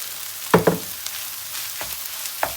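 Chicken puff masala with pepper powder and coriander leaves being stirred in a pan, a few sharp scraping clatters of the spoon over a quiet low sizzle.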